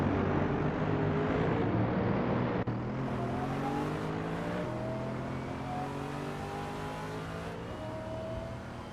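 Supercars race around the Zolder circuit in a video game, a dense wall of engine drone with rising and falling tones as several cars rev and shift together, steady and loud throughout.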